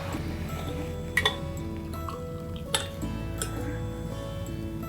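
Herbal decoction of maavilangam bark, nerunji thorn, pepper and cumin being strained: faint metallic clinks and taps of utensils over a low steady hum, a couple of sharper knocks, quiet and close.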